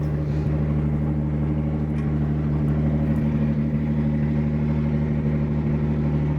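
A drift car's engine runs steadily while the car rolls forward, a loud, even low drone with strong harmonics and no speech.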